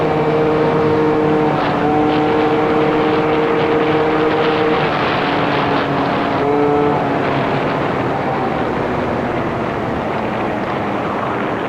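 A scooter engine accelerates hard and close by, a loud, continuous high-revving whine whose pitch climbs and holds before shifting, staying strong throughout the run with no voices.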